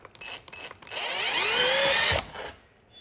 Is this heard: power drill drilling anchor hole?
yes